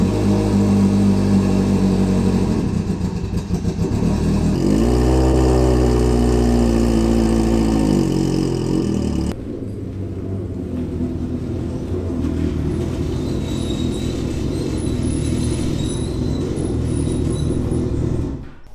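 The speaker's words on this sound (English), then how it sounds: "This smart car has been sitting here, so we're going to do a cold start on it and then drive it into the barn" A Smart car that has sat unused fires up from cold and settles into a steady idle, a loud continuous engine note running close by with a brief revving change partway through and no talk.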